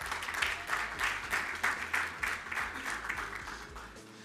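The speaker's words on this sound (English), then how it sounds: "Round of applause." An audience at a debate event applauds a blogger and poet as he is introduced, rhythmic clapping that pulses steadily and then tapers off.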